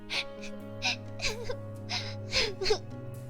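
A voice imitates a small child's crying in a tabletop role-playing session, giving a series of short whimpering, wailing sobs, close and fairly loud, over a steady low hum.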